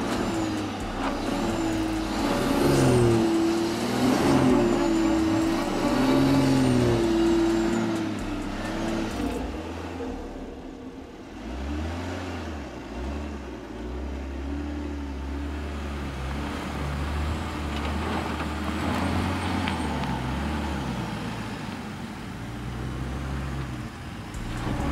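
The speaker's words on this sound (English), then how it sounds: "The X6 has reached the complex part of the climb. Listen to the engine sound." A BMW X6 SUV engine labors while climbing a steep, difficult hill, a loud rumbling drone that rises and falls with throttle over road and tire noise, no talk.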